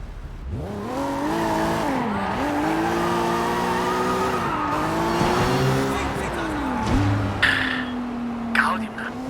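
Driving in the video game Sleeping Dogs: a car engine revs and shifts through gears with rising and falling pitch, with short tire squeals near the end, heard up close under occasional speech.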